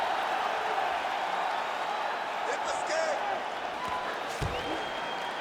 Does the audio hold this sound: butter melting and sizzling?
no